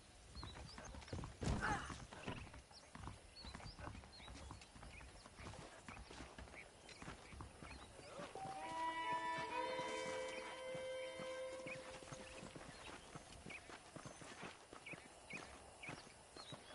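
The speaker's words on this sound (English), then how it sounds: "The horses are saddled up over here." Hooves clip-clopping in a steady trot in the video game Red Dead Redemption, close and continuous, with a brief whinny near the start and a musical tone swelling midway.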